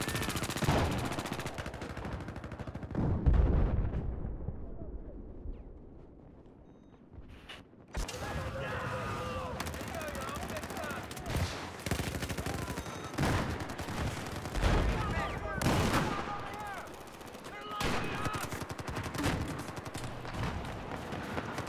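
Video game light machine gun fire, sustained bursts of rapid shots running almost throughout, loud and dense with brief lulls, mixed with other battlefield gunfire and game sounds, and faint voices underneath.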